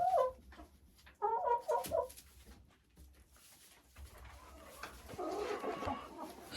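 A Marans hen clucks in short bursts close by in a farmyard with other birds, its calls separated by quiet gaps, followed by softer rustling and background chatter.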